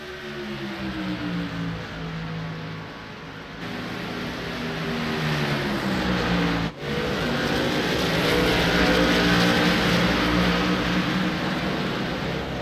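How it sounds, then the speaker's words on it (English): A race truck engine pulling off pit road onto the track for a qualifying lap, a loud, sustained drone whose pitch climbs and shifts through the gears, steady and close throughout. "Delonta Ballard in the number 21 machine is going to be coming out off of pit road to put his first lap of qualifying in"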